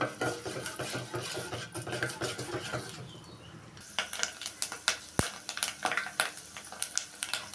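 Curry leaves and dry red chilies tossed in a tempering pan for drumstick tomato curry, heard as a busy run of scraping and clinking stirs, then sharper, spaced taps of a spatula against the pan, with no talking.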